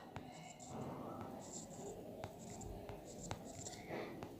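Pen or chalk strokes on a board or paper for a geometry proof: faint, scattered scratches and taps over a steady hiss, with soft whispering.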